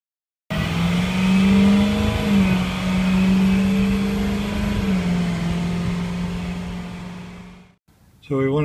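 A Ford 6.0 liter diesel truck climbs a big hill, its engine droning loudly and steadily with a sustained low tone that rises and falls slightly under load, then drops away briefly before the sound resumes.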